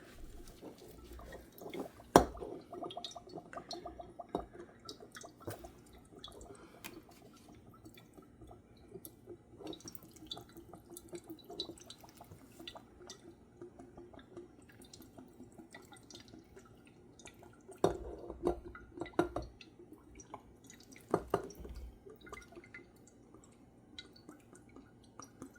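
Quiet, sparse drips and small splashes of liquid slowly pouring from a bottle in a kitchen, with scattered soft taps against low background hiss.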